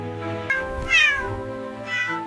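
A Somali cat gives a drawn-out, rising and falling meow, close and clear, with a shorter trailing cry at the end.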